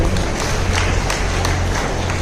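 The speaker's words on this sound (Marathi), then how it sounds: "तिच्यासाठी जोरदार टाळ्या होतं" Applause from an audience at a children's performance at a Shri Kanyaka Parameshwari celebration, a steady dense wash of clapping that holds at an even level throughout, with no voices.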